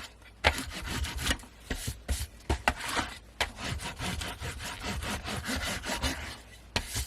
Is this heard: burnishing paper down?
yes